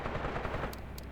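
Gunfire from the World War II tactics game Graviteam Tactics: Mius Front, a dense, continuous burst of rattling machine-gun and rifle fire, loud and unbroken for the whole moment, with no voices.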